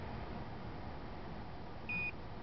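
A Snap-on TPMS3 tire pressure monitor tool, hooked to a vehicle through an OBD module, gives a single short electronic beep after a button press, rising over steady low background noise.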